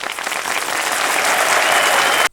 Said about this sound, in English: Yes, and the people that applaud.